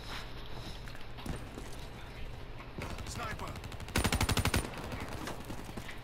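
Sniper rifle fire in Call of Duty Black Ops III multiplayer, a few sharp shots scattered through game ambience, then a loud rapid burst of automatic gunfire near the end, with a voice talking at times.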